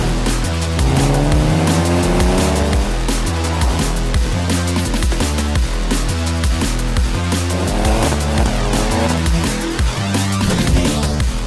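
Hyundai Elantra N performance car with an 8-speed twin-clutch automatic, its engine loud and continuous as it drives hard, with rhythmic gear-change pulses and possible tire squeal throughout.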